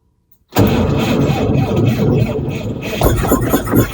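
A cold 1962 Chevrolet C20 truck with a service bed cranks after a moment of silence. The starter grinds on loudly and continuously for over three seconds, and the engine sputters but does not catch.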